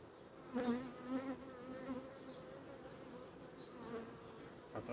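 Honey bees buzzing steadily around a nucleus hive during an inspection, a close, continuous drone with wavering pitch and a few louder passes of individual bees.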